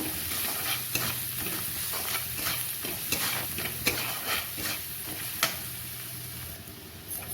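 Onions and salt fry in a pan with a constant soft sizzle, punctuated by close, intermittent scraping and clacking of a spoon stirring them, no voices present.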